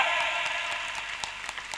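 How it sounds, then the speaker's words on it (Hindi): Brief applause from an audience at a religious stage event, dense steady clapping heard alone for a short stretch with a few louder individual claps. "थोड़ी ताली बजाई दो"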